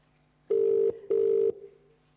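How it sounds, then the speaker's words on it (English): A telephone rings in a London broadcast studio with two short, loud buzzing bursts, a classic British double ring, close by and alone. "let's see if we can get a hold of Steve, maybe on the phone over there."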